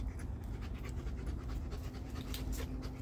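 Puppies panting steadily and rapidly while playing with a stick, a continuous close breathy rhythm lasting throughout with no talk.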